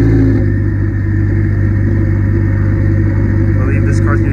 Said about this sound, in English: Not get enough of that startup of the GT3 Evo.